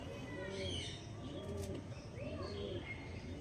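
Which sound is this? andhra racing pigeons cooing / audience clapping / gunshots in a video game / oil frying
andhra racing pigeons cooing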